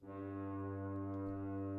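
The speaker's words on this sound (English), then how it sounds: "And then this foghorn I pitched" A foghorn sample, pitched to match a chord's tonic within a music loop, sounds as a loud, sustained, harmonically rich low drone that holds steady for nearly two seconds with no other sounds.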